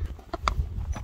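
A horse's hooves strike the ground in a quick run of several sharp clip-clop beats, close and moderately loud, with no voices.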